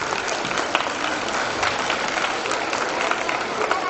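Audience at a children's festival gathering clapping for parents, a steady wash of applause throughout with a faint voice underneath.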